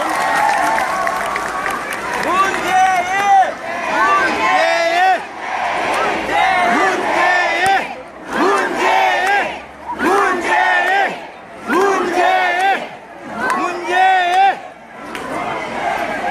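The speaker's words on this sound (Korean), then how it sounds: "여러분 문재인 후보에게 뜨거운 박수를 보내주시면 연설을 시작하겠습니다" A large crowd at a final-day presidential campaign rally for Moon Jae-in in Busan cheers and chants in rhythmic bursts, loud massed voices rising and pausing repeatedly, with some clapping underneath.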